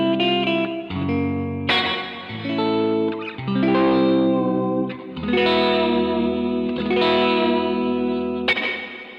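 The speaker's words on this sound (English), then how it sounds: "let's see if this is an accurate version of a hall" A Fender electric guitar plays a series of sustained chords and notes through a hall reverb effect, each chord ringing out with a long wash of decay, close and fairly loud with no voices.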